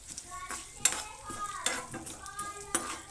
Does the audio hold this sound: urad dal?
yes